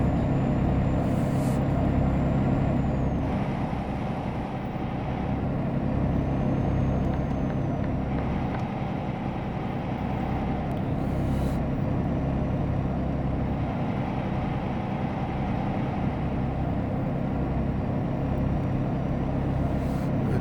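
A DAF XD truck in Euro Truck Simulator 2 drones with a steady, loud, low engine rumble throughout, a couple of brief hissing air-brake bursts breaking through at intervals.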